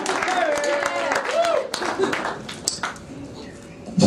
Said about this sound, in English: Round of applause for Jimmy Bain,